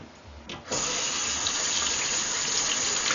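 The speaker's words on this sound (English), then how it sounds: "I just run it under the water." Tap water runs steadily over a face brush at a sink, a brief softer trickle giving way to a full, constant stream that stays loud and close to the end.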